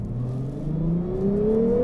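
A 2021 Lexus IS 350 F Sport sedan's engine climbs steadily in pitch as it revs toward high RPM, a smooth rising drone heard from inside the car.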